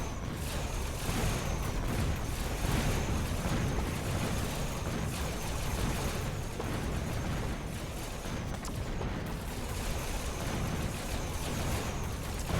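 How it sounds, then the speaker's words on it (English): Battle clamour from the Mechabellum strategy game, a dense, steady wash of booms and gunfire-like bursts continuing without pause, with a tower exploding amid tanks, wasps and overlords. "Perfect timing on the tower explosion"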